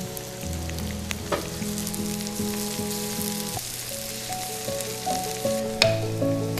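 Shallots and parsley sizzling in a hot pan alongside softened mushrooms, a steady close frying hiss with stirring clinks and occasional sharp scrapes, no voices.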